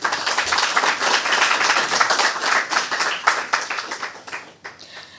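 Audience at a robotics competition event breaks into lively applause, a close, dense patter of many hands that swells and then thins out and trails off near the end, with no talking over it.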